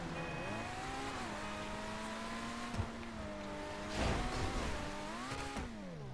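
A Pegassi Autarch supercar in GTA 5 revs steadily, its engine tone rising and falling in smooth harmonic sweeps, close and continuous, with a brief whoosh midway and no talk.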